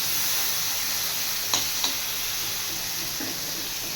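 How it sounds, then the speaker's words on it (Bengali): Potatoes fry in hot oil in a pan just used for frying fish, making a steady, even sizzling hiss broken by a couple of sharp utensil clicks. "আলুগুলো একটু লাল লাল করে ভেজে নিই।"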